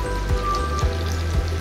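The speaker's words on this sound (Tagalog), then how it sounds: "So ilalagay na natin ang ating all-purpose cooking cream." All-purpose cooking cream poured into a pan for creamy carbonara sauce, giving a steady, close hiss and patter like light rain, with a low hum underneath and a few soft bumps through the pour.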